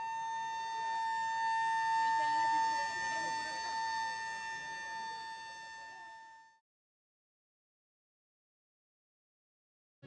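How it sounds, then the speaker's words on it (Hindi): Siren sounded to announce iftar time at the Nizamuddin Dargah in Delhi, a loud steady tone with strong sustained harmonics that holds for about six seconds and then stops abruptly, leaving near silence. "ऐलान सायरन बजाकर किया जाता है।"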